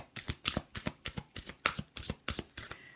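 Angel cards being shuffled by hand in quick, even riffling bursts, about a dozen crisp slaps in steady rhythm, close and alone with no talk.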